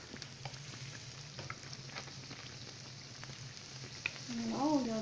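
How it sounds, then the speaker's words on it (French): Beignets frying in a pan give a steady, faint sizzle throughout, joined by brief stirring clatters and a short swell of louder bubbling near the end. "là, je les mets dans la poêle doucement. Voilà, ça cuit facilement."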